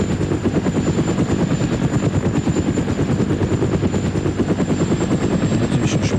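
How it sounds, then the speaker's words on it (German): Helicopter in the video game ArmA: Cold War Assault, flying and coming in to land, with a steady loud rotor thump and turbine whine running continuously without talk. "versuchen wir mal eine Landung hinzukriegen. Ohne den Hubschrauber zu schrotten."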